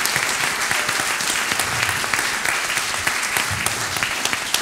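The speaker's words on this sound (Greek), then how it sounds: "Δώστε σας παρακαλώ ένα χειροκρότημα στον κύριο Ρένο Νεκτάριο Παυλάκη" Audience applause at a church concert, dense sustained clapping filling the space evenly from start to finish, loud and close without voices on top.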